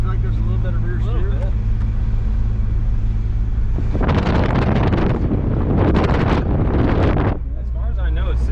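Toyota JZX90 cruising on the road, with a steady low engine and road rumble plus broadband wind buffeting that swells loudly in the middle, while people talk inside the car at the start and end.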